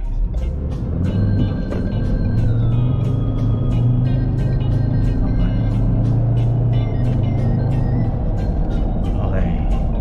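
Car engine revving after an engine flush, a loud rumbling roar that rises and holds steady close by, with voices talking over it throughout.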